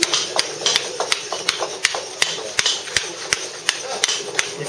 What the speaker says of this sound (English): go along for a few taps of the chisel, take a bit of the waste off